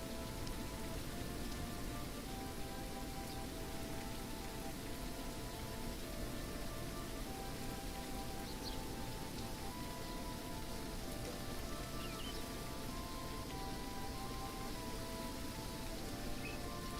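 Steady rain falls in the video game The Great Circle, a dense, even patter that continues without a break from start to finish, with no voices over it.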